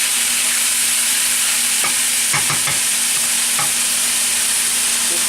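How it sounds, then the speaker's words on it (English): Chicken stir-frying on high heat in a Wolfgang Puck wok, a loud steady sizzle with a few scraping stirs of the utensil near the start, no talking. "Keep cooking it, stirring it. I have it on high."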